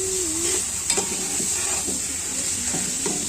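Food sautés uncovered in an open pan, a close, steady sizzle and hiss broken by a few soft stirring scrapes, with a faint high whine running underneath and no talk.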